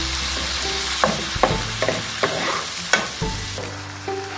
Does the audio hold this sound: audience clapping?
no